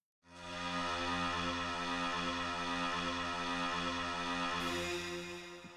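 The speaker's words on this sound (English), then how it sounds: "This is the call of the kazoo." A loud, steady buzzing kazoo tone with an electronic, processed quality, held as one continuous drone for several seconds before fading slightly.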